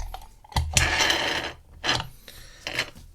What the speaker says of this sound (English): Let's throw these in a vise and get picking.